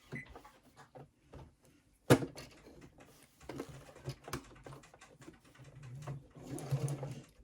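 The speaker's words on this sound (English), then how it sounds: "we're going to sew across there at 3/8 of an inch" A sewing machine stitches across a fabric wrist strap at close range in short, quiet, uneven runs, with soft mechanical clatter, a sharp click partway through and a busier stitching burst near the end.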